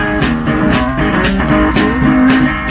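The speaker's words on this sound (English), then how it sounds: "he's playing the guitar, and he's got a tiny, like a child's drum kit that he is operating himself with his foot" A busker at Glastonbury plays blues guitar while working a tiny child's drum kit with his foot. The music is dense and loud, with rhythmic percussive hits under the guitar and no talk.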